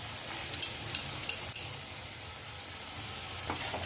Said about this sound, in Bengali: এবার দিচ্ছি একটু টক দই